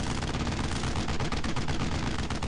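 Sustained heavy .50 cal machine gun fire in the World War II shooter Brothers in Arms: Earned in Blood, a loud, dense, continuous rattle of rapid shots filling the whole stretch with no pauses.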